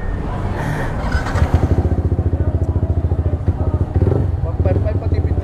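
Yamaha R15 155cc motorcycle running with a steady pulsing engine chug, close by, under people talking.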